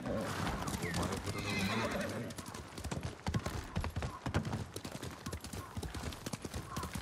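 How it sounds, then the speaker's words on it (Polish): A horse in the video game Ghost of Tsushima whinnies near the start, then hooves clip-clop in a quick galloping rhythm, loud and close, with game sounds mixed in. "Nieważne, bierę konia i jedziemy."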